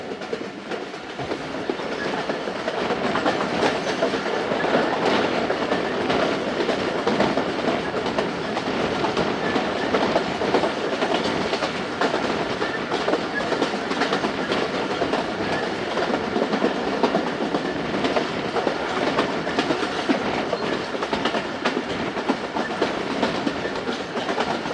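The Khyber Mail passenger train rolls along the rails on the Multan to Peshawar route, a steady loud rumble with rhythmic clickety-clack of wheels heard from inside the carriage.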